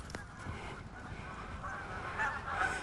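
Canada geese honk in a park or field, faint and somewhat distant, with scattered calls rising a little toward the end over a noisy outdoor background.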